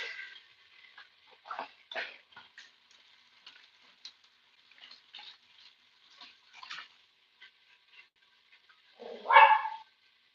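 Dog barking indoors in a home kitchen, a scatter of short sharp bursts at irregular intervals, mostly faint to moderate, with one louder bark near the end.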